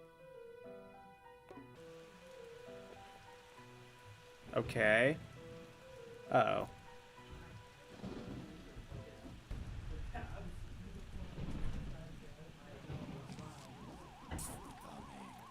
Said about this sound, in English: Dark and stormy night.